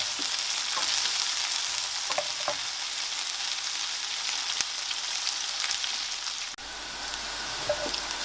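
Onions fry in a pan for egg biryani, giving a steady, close sizzle with faint stirring clicks. No one speaks over the cooking.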